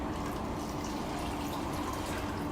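Kangen water, a strong 11.5 pH alkaline water, pouring out in a steady, continuous splashing stream close by with no voices over it.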